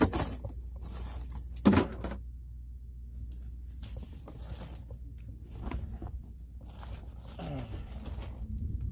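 A set of keys handed over in a car on a road trip in Arizona: a sharp metallic jangle early on, then quieter rustles and clinks over low road rumble.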